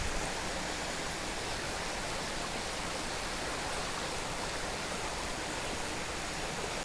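River water rushing at a crossing on a forest route to a remote Karbi tribe village, a constant broad roar of flowing water, steady and fairly loud with no voices.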